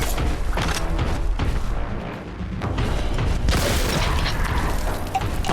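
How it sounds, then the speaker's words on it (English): A frag grenade blast in a Warhammer-style shooter game, a loud booming explosion with thudding debris and rumbling low end that fills the whole clip, dipping briefly before a second burst of crashing noise. "One frag grenade."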